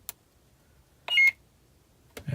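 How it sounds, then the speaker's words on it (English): A KR Ahsoka NBv4 lightsaber gives a single short electronic beep as it switches to mute mode, clear and close in a quiet room, framed by faint clicks before and after. "And then I will show you mute mode as you press for 1 beep."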